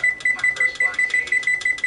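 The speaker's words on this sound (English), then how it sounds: "Pop that in and set the timer" A kitchen oven timer beeps in a quick, even series of sharp, loud pulses, close by with no other sound over it.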